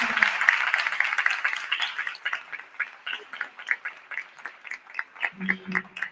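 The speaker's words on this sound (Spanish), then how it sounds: "por favor, un aplauso para todos estos" An audience at a talk on women's visibility and inclusion at a European film festival in Guanajuato applauds in a dense burst of clapping that gradually thins into scattered, separate claps, with a brief voice near the end.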